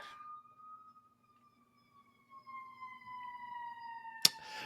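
A single faint siren wail slides slowly downward and stands alone in quiet surroundings, ending with a sharp click.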